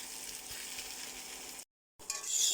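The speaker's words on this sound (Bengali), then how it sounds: "এইভাবে আস্তে আস্তে লেড়ে লেড়ে একদম লাল লাল করে ফেলবে।" Potatoes frying in a pan and being slowly stirred, a steady moderate sizzle broken by a short silent gap and then resuming louder and brighter, close and without voices.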